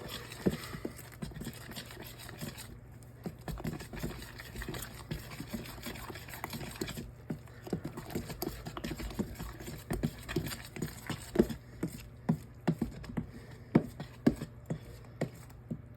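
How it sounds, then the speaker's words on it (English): Someone stirs a dry mix by hand as it becomes saturated, producing repeated close knocks and scraping taps in an irregular rhythm over a low steady hum. "I'll pretty much be stirring this all the way up as much as possible"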